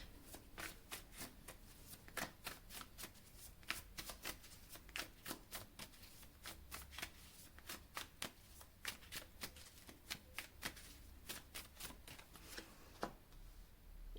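Tarot cards being shuffled for a reading, with a steady run of crisp riffles and soft card slaps repeating every half second or so, close and quiet, with no talk.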